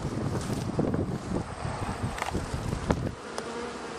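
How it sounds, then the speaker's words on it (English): Dense, continuous buzzing of many honeybees fanning their wings at a hive entrance, steady and close, with occasional louder passes as individual bees fly near, over light wind noise. "there's the most bees at the entrance and they sit there and they fan their wings"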